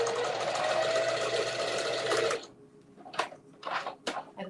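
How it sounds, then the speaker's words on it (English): A sewing machine stitches a custom hanging fabric basket with a steady, fast whirring run for about two seconds, then stops, followed by a few short clicks and handling noises. "So I'm going to sew down to the middle and then pivot and then back up"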